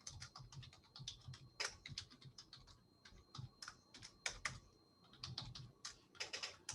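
Keys clatter steadily on a computer keyboard as code is typed, a quiet, close run of irregular taps and occasional louder strokes with no voices.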